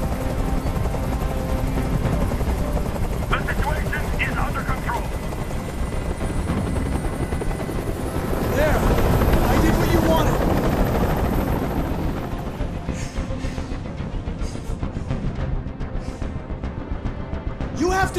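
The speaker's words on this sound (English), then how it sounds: "Tell that helicopter to get out of here." Helicopter hovering overhead in the Detroit: Become Human video game, a loud continuous rotor drone that fills the whole stretch, swelling slightly in the middle with no talk over it.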